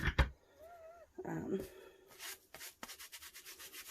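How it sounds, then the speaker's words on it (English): Glitter being burnished by hand onto a tack-coated tumbler, a close dry rubbing and scrubbing in quick repeated strokes, with a voice briefly talking at the start. "I'm going to start burnishing it."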